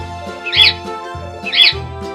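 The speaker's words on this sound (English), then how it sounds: "Parakeet." A parakeet gives two harsh, bright squawks about a second apart, loud and close, over a steady low background.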